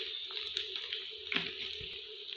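Onion, garlic and cumin frying in oil in a pan, a steady soft sizzle with small crackles and a few light stirring knocks, fairly quiet and close.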